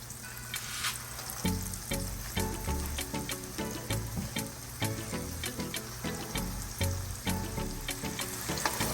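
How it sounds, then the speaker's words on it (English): Seabass fillets fry toward crispness in hot oil, a busy close sizzle broken by repeated rhythmic clatters and taps, steady throughout without speech. "we're gonna fry our fish for about 3 minutes, you know, or until they are like super crispy"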